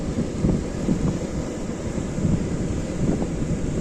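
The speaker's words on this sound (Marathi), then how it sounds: "थंडगार वारा आणि या समुद्राच्या लाटा" Cold wind blows steadily over sea waves at Varsoli beach near Alibag, with a continuous low, rumbling roar of surf and gusts buffeting the microphone throughout, without any voices.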